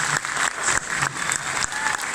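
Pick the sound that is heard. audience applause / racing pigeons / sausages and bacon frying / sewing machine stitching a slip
audience applause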